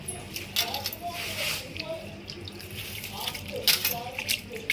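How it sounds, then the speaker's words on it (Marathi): Food is swished and rinsed by hand in a pot of water, with soft sloshing and splashing in irregular bursts, close by, while someone talks over it. "आम्ही असं थोडं पाण्यात धुवून घेतो"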